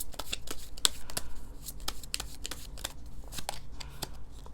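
Tarot cards being shuffled by hand before a draw, a quiet series of quick crisp riffles and taps in an irregular rhythm, close and soft, with no talking.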